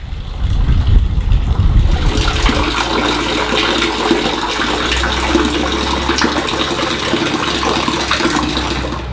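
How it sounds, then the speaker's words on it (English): Excess water from newly installed field tile drainage pours into a storm drain at a community orchard. It makes a loud, steady, close rushing and gurgling flow that continues throughout. "Here's the storm drain that all the excess water goes into"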